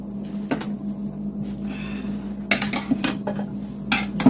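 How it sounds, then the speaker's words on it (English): Cutlery scraping and clinking against a plate while spaghetti and meatballs are stirred, with a steady kitchen hum underneath and clusters of clatter near the end, close and moderately loud. "stir this up a little bit"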